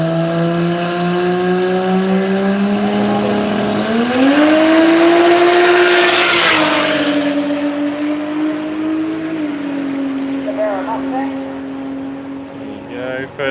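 A Barra-engined Mustang makes a drag racing pass at the Street Machine Drag Challenge, its loud, sustained engine roar climbing in pitch through the gears and then fading, heard beneath an announcer's commentary.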